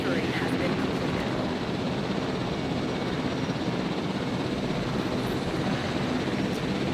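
A video game helicopter drones with a continuous broadband rotor and engine roar, steady and loud throughout, with faint game effects underneath.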